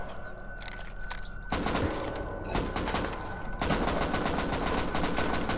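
AK rifle fire in Rust, rapid automatic bursts cracking repeatedly, growing louder and denser over several seconds, with no talking over it.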